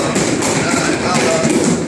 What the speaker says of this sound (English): you can just stomp your feet on the floor